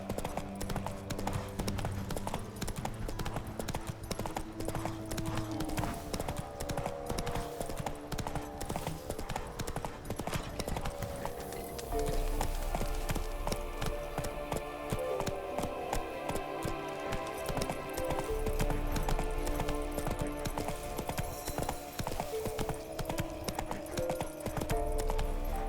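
Geralt's horse Roach in The Witcher 3 gallops with a steady, rapid clip-clop of hooves that runs throughout, loud and close, with a brief neigh and background game music.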